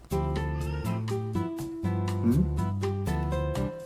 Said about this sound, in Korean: 갑자기 울부짖는 마물고양이